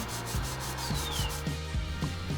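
An alloy wheel is sanded by hand with sandpaper, giving a continuous close, loud rasping rub with regular back-and-forth strokes roughly every half second and no talking.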